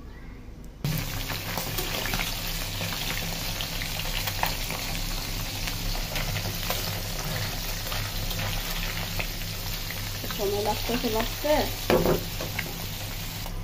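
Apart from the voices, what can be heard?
small fish frying in a pan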